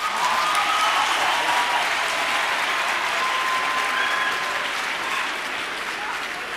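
An audience applauds steadily and loudly throughout at the 2017 Enactus South Africa national championship, a dense wash of clapping that fades slightly near the end.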